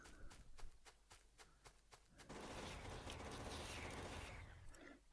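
Guns firing at small groups of enemies in Factorio, a steady train of sharp clicking shots for about two seconds that gives way to a dense, continuous roar of gunfire and impacts.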